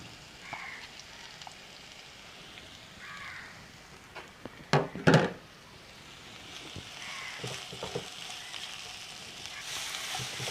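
Thinly sliced medium onions fry in a pan for chicken ularthiyathu, a faint steady sizzle throughout, broken by a brief clatter of a spoon or pan near the middle.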